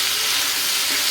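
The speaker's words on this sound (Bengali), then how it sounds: "একটু ভেজে নিব।" Potato pasta fries in a pan for a healthy snack made without oil, giving a steady, loud, close sizzle that holds evenly throughout, with no voices.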